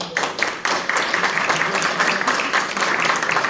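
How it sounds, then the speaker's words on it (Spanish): Audience applause at a numismatics working session on historical and cultural heritage, a brisk round of many hands clapping fairly close, steady throughout with slight swells. "primeramente pido un voto de aplauso"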